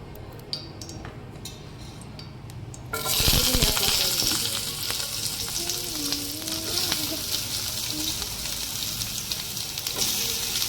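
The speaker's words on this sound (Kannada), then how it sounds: "ಈರುಳ್ಳಿ, ಶುಂಠಿ, ಹಸಿಮೆಣಸಿನ್ಕಾಯಿ ಮತ್ತು ಬೆಳ್ಳುಳ್ಳಿ ಚೆನ್ನಾಗಿ ಫ್ರೈ ಆಗಿದೆ." Onion, ginger, green chili and garlic fry in a small amount of hot oil in a home kitchen, a steady close sizzle that jumps louder after a quiet start and carries on with light stirring clatter and faint music.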